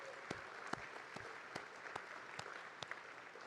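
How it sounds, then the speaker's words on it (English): Light, scattered applause from a conference audience at an evening event for a World War II conference, with distinct individual claps standing out over a faint wash of clapping, quiet and somewhat distant. "Let's give them a round of applause."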